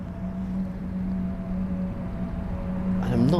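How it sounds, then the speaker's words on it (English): A Boeing 777-200 taxiing at London Heathrow gives a low, steady droning hum from its jet engines, heard from a distance, with a voice starting to speak right at the end. "you could probably hear the engines of a 777-200 that is just taxiing in front"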